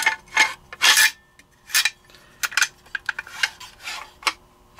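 The bolt of a CZ 805 Bren PS1 rifle is turned and worked during reassembly, producing close metallic scrapes, rubs and clicks in uneven bursts.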